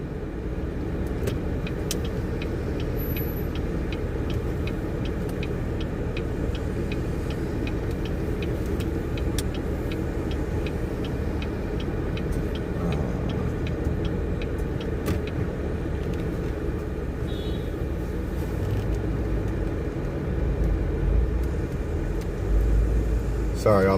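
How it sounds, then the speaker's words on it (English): Heavy downtown traffic in Washington DC during the Rolling Thunder event, a constant rumbling wash of car and engine noise with faint ticking, and a voice talking over it. "There's just so many cars."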